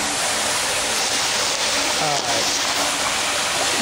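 Water running and trickling into a sewer manhole through leaks in its walls, a steady loud rushing wash like a small waterfall throughout, with a brief spoken word over it.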